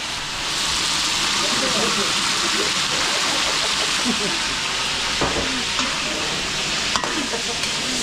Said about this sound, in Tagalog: prituin na natin patatas